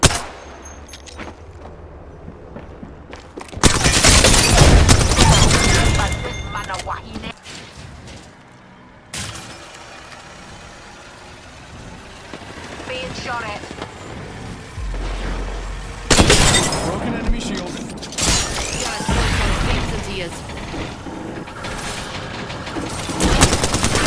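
Repeated gunfire and explosive bursts in the Apex Legends battle royale, coming in loud, dense volleys with quieter gaps between, weapon blasts and shattering impacts stacking up through a chaotic fight, with occasional voices mixed in.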